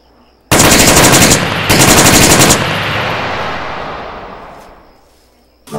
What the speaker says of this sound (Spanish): Voy a abrir fuego.